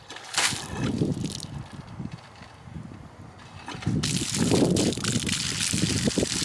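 Water flows from a newly reconnected barn water line after trench repair work, a steady rushing trickle that surges louder partway through, with brief excited voices and outdoor noise mixed in.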